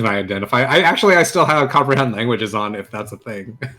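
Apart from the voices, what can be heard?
No everyday noises stand out.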